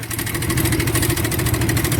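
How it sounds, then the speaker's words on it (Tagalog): Steady, loud car engine idling at low rpm, a continuous even rumble with a faint pulsing throb and no talking over it. "Kung ito'y katulad ng inyong tunog na makina"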